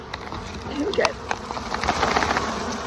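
Honeybees buzz in a loose swarm as they are shaken off a surface at the entrance of a hive in a February apiary, a close, fluttering hum with soft knocks and a brief spoken remark.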